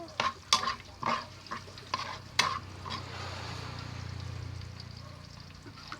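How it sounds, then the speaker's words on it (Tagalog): Onions are sautéed in a frying pan: a spoon scrapes and clatters against the pan several times, then a steady soft sizzle carries on alone. "Mix na natin yung ating sibuyas."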